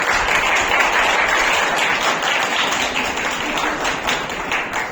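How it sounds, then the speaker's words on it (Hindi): Loud, sustained applause from a crowd at an award ceremony, dense and energetic clapping throughout without pause. "तो उनके लिए एक जोरदार ताली।"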